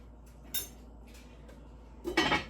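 A lid goes onto a cooking pot of chicken paprikash set to boil, giving two quiet metallic clinks a moment apart in a hushed kitchen.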